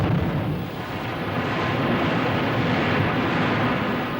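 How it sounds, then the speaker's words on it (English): Blasting thunders through a mountainside slate quarry as a long, dense, continuous roar of rumbling explosions that stays loud and steady throughout. "the whole mountain bellowed with explosions"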